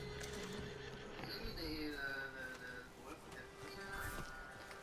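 A horse whinnies in the video game Red Dead Redemption 2, a clear neigh rising over game ambience with soft hoof clip-clop and background noise.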